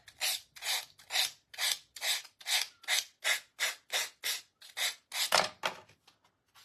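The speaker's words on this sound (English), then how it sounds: "My nail file is actually working a little bit better." A nail file rasps steadily against a small craft piece, about fifteen even back-and-forth strokes close up and alone, each a short scratchy burst with brief pauses between.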